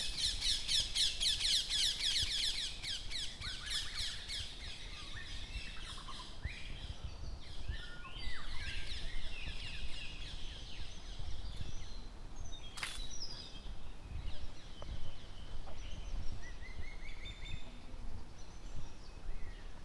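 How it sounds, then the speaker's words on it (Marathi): Several birds calling in a sacred forest grove in Konkan at evening: a rapid repeated chirping trill at first, then scattered tweets and calls over a low rumbling background. "वेगवेगळ्या प्रकारचे पक्षी आहेत इकडे"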